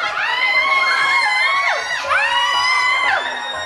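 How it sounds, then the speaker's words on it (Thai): A crowd at a shopping mall event screams loudly and continuously, high shrill cries swelling and dipping in waves with no break. "กรี๊ดสิครับ ระบายมันออกมาครับกรี๊ดกรี๊ดอย่าเก็บมันเอาไว้ครับ"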